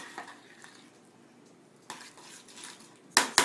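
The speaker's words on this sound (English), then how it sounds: "she's doing the final stirring to get that butter melted" A spoon stirs a praline mixture with melting butter in a pot, giving scattered metallic scrapes and clinks, quiet at first and then two sharp loud knocks against the pot near the end.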